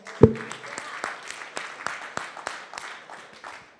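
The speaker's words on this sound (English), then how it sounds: "Let's have a round of applause." A gala audience gives a round of applause, a fairly faint patter of clapping hands from a crowd after one sharp close bang, continuing steadily throughout.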